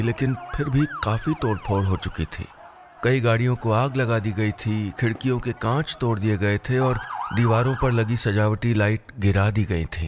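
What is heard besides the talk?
police siren sound effect in audio story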